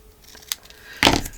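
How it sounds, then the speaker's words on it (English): Scissors trimming a small bit of paper for a file folder journal pocket: a quick snip followed by a louder close crunching cut near the end, otherwise quiet. "Now on this one I will trim it. Just a little slight trim there."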